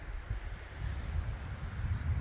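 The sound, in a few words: wind blowing on a mountain platform at night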